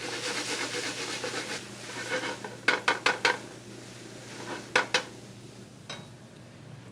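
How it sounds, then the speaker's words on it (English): Minced bacon hits a hot pan in a professional chef's kitchen. A dense hiss of sizzling fat fades after the first moments, followed by a quick burst of metallic clanks from a pan or utensil. Nobody speaks. "Add our minced bacon."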